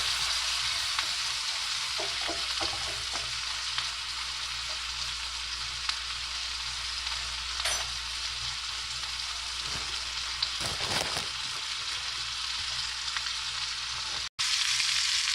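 Steak and onions fry together in a pan with a constant, even sizzle and occasional faint crackles and clinks, no voices, continuing for about fifteen seconds.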